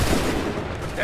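Musket volley gunfire in the Assassin's Creed 3 video game, a dense burst of overlapping shots roaring loudly together, with a soldier's shouted commands heard over the noise.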